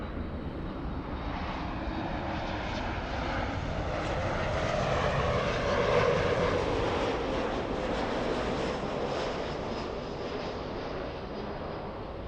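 A Boeing 767 jet airliner bound for JFK passes at LAX as a sustained, loud jet roar that swells gently toward the middle and then eases.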